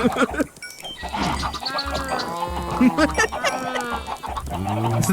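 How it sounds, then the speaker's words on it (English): Many chickens clucking in the Minecraft video game, a dense, busy chorus of overlapping clucks and squawks, loud and close. "I have a lot of chickens in here."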